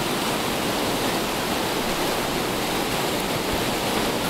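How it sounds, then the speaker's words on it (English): The Stehekin River, flowing bank full, gives off a continuous dense roar of rushing water that stays loud and close, with no other sounds. "the Stehekin River is flowing bank full"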